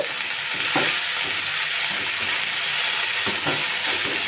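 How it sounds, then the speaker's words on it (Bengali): Nate shak greens being stirred in a hot pan, a steady sizzle of frying running throughout with a few louder scrapes and clatters of the spatula, close and fairly loud, no voices. "নোটে শাক এটাও আমি একটুখানি নাড়াচাড়া করে নেব"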